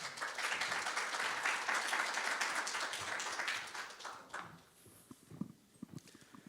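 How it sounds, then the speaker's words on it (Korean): Applause from the audience at a smart city and logistics investment briefing, loud and dense for about four seconds, then fading into scattered claps. "여러분 큰 박수 부탁드립니다"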